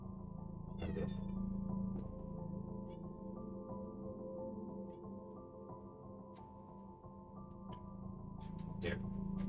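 A cat meows a few times close by in a home setting near dinnertime, short calls rising over a steady low hum of game music and room noise.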